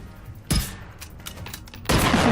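Pistol gunfire in the shooter game Generation Zero, heard as two loud bursts of shots separated by a short pause, with smaller crackling reports between them.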